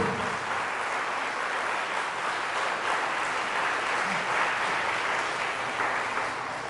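A church congregation applauds at a Catholic service led by a priest, a dense, sustained round of clapping that holds at an even level throughout with no talking over it.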